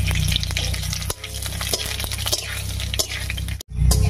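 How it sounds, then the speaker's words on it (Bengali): Dried red chilies, black cumin and radhuni tempering in hot oil give a loud, continuous sizzle with stirring scrapes, cut by a brief pause before the frying resumes. "ফোড়নটা বেশ একটু ভাজা ভাজা হয়ে গেছে"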